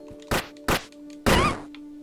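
Hit effects from the 2D video game Momodora play as three chunky, punchy thwacks in quick succession, the last one longer with a ringing tail. A steady tonal hum from the game runs underneath.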